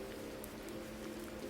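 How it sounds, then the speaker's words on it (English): Steady heavy rain pours down in a dense, even hiss of drops on hard surfaces in a night-time city alleyway, continuous and unbroken with no voices. "The downpour out there in Sector 4 tonight is intense."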